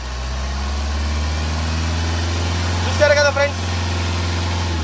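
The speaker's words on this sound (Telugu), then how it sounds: "సార్ కొంచెం ఎక్సలేటర్ ఇవ్వండి సార్" A 2012 Toyota Etios GD diesel engine running close by with a steady low rumble and a slight rise in pitch, while someone speaks briefly over it.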